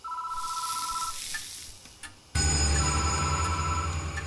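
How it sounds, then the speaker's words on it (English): A telephone rings in the horror game Spirit Hunter: Death Mark, a faint tone giving way to a loud, sustained electronic ringing that fills the second half, with no talking. "The phone is ringing."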